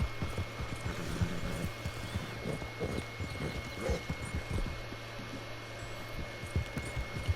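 Horse hooves clip-clopping in Red Dead Redemption 2, a steady run of close hoofbeats over a faint constant background hum, with no voices.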